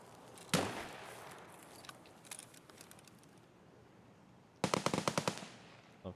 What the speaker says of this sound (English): Terrible shooting. I don't know how he didn't die from that last shot.